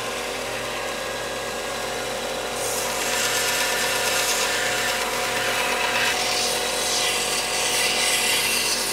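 Ends of short wooden dowel pieces, about 8 cm long, are rounded off on a power tool, giving a continuous close grinding and rubbing drone that grows louder and rougher partway through, with no voices.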